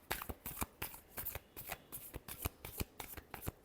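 Tarot cards are shuffled by hand in quick bursts of crisp riffling and slapping, about a dozen close, sharp flutters in an uneven rhythm, fairly quiet and with no voice over them.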